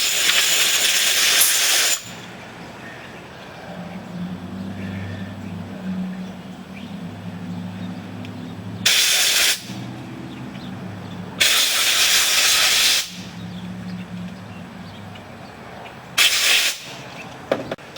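Compressed air blows through the carburetor of a 1983 Yamaha XT 250 in four sharp, loud hissing blasts of varying length, separated by quieter stretches with a low mechanical hum.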